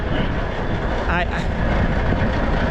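A loud Kenworth K100E cabover truck engine runs at a steady idle, its deep, dense rumble filling the whole stretch close by without a break.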